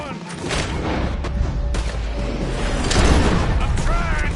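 Red Dead Redemption 2 gunfire crackles continuously during a shootout around a wagon, dense booming shots under shouting voices throughout.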